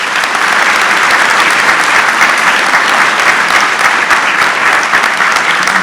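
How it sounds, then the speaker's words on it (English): Loud, sustained applause from a ceremony audience at an engineering induction event, a thick, even roar of many hands clapping continuously with no pause or voices over it. "Please join me in a round of applause to recognize these college officers."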